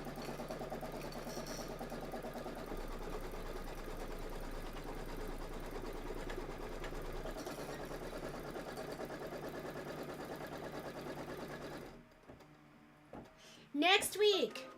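An embroidery machine stitches a quilting pattern for stockings with a steady, even mechanical whir for about twelve seconds, then stops and leaves a short quiet stretch with some brief faint sounds at the end.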